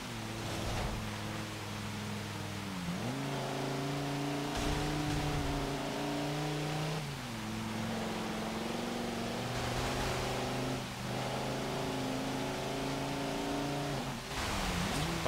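A 2008 Volkswagen Touareg R50 accelerates in Forza Motorsport 7, its engine droning loud and steady as the pitch climbs through each gear and drops briefly at every shift, with no talk over it.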